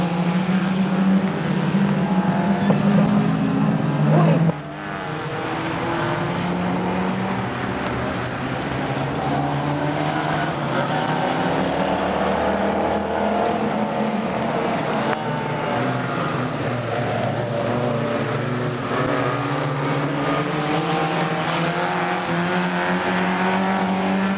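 Race cars circle a track at an expo race meeting, their engines droning and whining as they pass, rising and falling continuously in a steady roar, with one sharp drop early on.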